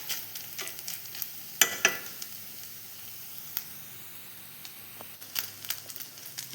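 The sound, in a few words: grated coconut being roasted in a pan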